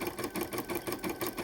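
A refurbished embroidery machine, a Brother 770 or Janome 550e, stitches a blanket, its needle pulsing in a fast, steady rhythm with a mechanical whir close by and no voices.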